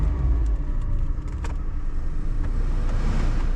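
A car engine idling just after being started with the key: a low, steady purr, close and fairly quiet, with faint clicks over it and no talk.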